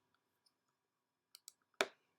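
A computer mouse clicks while someone edits in iMovie. There are a few faint ticks, then two crisp clicks close together and one louder, sharper click, all in a quiet room.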